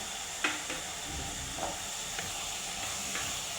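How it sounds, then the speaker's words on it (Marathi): Chilli powder, chole masala, ground coriander-cumin and salt frying in a pan for chole, a steady, close hiss of sizzling oil broken by a few light scrapes of stirring. "मसाले छान शिजून घ्यायचं मसाले आपले फ्राय झालेले आहे"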